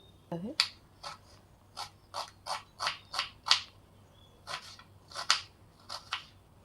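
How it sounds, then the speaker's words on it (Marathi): A knife chops a medium-sized onion on a board in a home kitchen, giving about a dozen crisp, sharp cuts in an uneven rhythm, close and clear against a quiet background. "या कांद्याला आपल्याला कापून घ्यायचं आहे"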